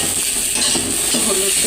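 Vegetables frying in a pan and being stirred, with a steady sizzling hiss and scraping, clattering stir strokes close by.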